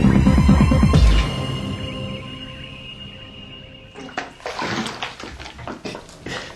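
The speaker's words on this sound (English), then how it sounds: "as the water empties from the bath, the volume remaining decreases" A bath drains its water, a steady gurgling flow that gives way to louder sloshing and glugging bursts in the second half, heard on its own without talk.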